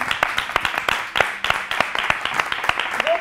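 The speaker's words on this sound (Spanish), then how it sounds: "Un aplauso para Irma" Studio audience on a television talk show applauding, a close, lively burst of many hands clapping with uneven sharp claps throughout the three seconds.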